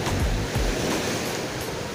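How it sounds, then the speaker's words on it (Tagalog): Strong surf pounds the shore near Boloboc Cave, a continuous loud roar of breaking waves with heavy low rumbling swells and steady wind noise, no voices. "Grabe ang alon dito."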